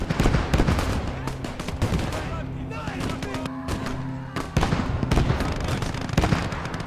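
Grenadiers attack with gunfire in the Gates of Hell: Ostfront game during a Soviet Don River defense, with dense, rapid overlapping shots and rattling bursts throughout and a few louder blasts, fairly close.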